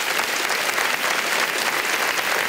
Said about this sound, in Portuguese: E vamos aplaudir a Jesus.